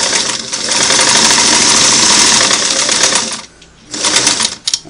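A vintage Singer Model 338 domestic sewing machine running a single-needle straight stitch: a loud, steady mechanical whir and rapid clatter that stops briefly near the end, then starts again in short bursts.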